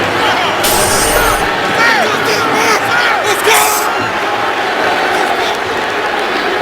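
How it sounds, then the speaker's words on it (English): A football stadium crowd in Baltimore reacts to a referee's call during a Bengals at Ravens NFL game, a loud continuous roar of voices with shouts and boos rising over it. "the crowd here in Baltimore unhappy with that call that gave Cincinnati that field position"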